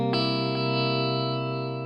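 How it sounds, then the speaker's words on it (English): A single dominant 7th chord strummed on electric guitar rings out through an effects unit with distortion and chorus, sustaining loud and clear for about two seconds, with no talking. "Next chord we're grouping into this stage is the dominant 7th chord."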